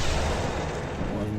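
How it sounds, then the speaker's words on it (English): Bombs thrown and exploding in Dark Souls at Sen's Fortress, a steady dense rumble of blasts and booms that fills the whole moment, loud and continuous with a voice faintly mixed in. "I'm gonna start chucking bombs at you."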